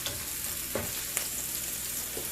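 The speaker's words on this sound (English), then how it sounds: "I'm just gonna saute this for a minute and then we are gonna add mushrooms" Vegetables sizzling and sautéing in a hot pan for a vegetable lasagna, a steady close frying hiss with a few soft stirring knocks, no talking.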